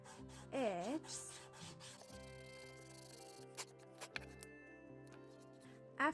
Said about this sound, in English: Sanding edges.